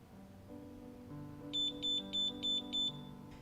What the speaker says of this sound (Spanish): El equipo nos acaba de avisar con ese sonido que ha terminado el tiempo de reacción.